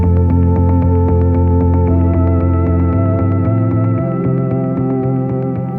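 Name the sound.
main synth pad on Arturia MicroFreak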